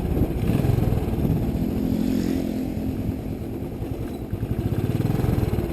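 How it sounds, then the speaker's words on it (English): A 2019 Royal Enfield Classic 500 engine chugs steadily up close, a low, rough single-cylinder thump with a slight rise in revs before settling again. "the engine noise reminds you that you're riding a lawnmower"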